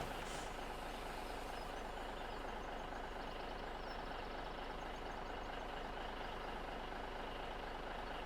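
A road-train truck in Farming Simulator 17 drives along with a low, steady engine drone, continuous and fairly quiet, with no talking over it.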